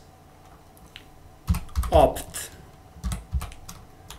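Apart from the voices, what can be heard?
typing a command on a computer keyboard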